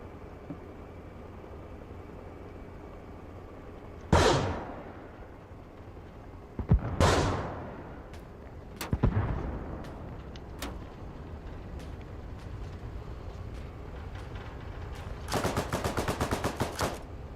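Gunfire and artillery in Arma Reforger: several heavy single booms with rolling echoes spaced seconds apart, a few sharp isolated shots, then a rapid burst of automatic fire near the end, all over a low steady background rumble.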